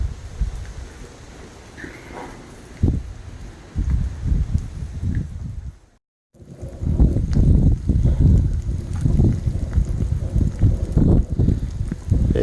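Gusty wind blows outdoors around a portable wood-burning rocket stove, buffeting the microphone in uneven rumbling surges, with a brief lull midway before the gusts return stronger.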